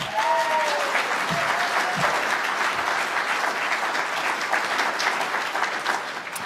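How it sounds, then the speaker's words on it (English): A conference audience of the British Constitution Group applauds steadily in a large room, a dense, even roar of many hands clapping that carries on without a break, with a voice briefly heard over it at the start. "big round of applause for Strider."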